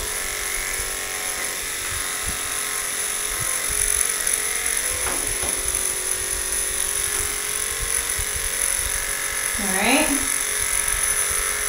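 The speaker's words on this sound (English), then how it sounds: "Basically how you do the clipper work on the head." Electric dog clippers trimming the head of a schnauzer, a steady close buzzing hum running throughout with slight changes in pitch as the blade moves, and a voice briefly audible near the end.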